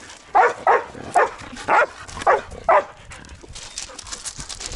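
Playful dogs bark six times at an even pace, loud and close. The barking then fades into quieter rustling background noise.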